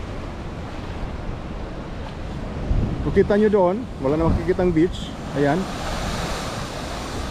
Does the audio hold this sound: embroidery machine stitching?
no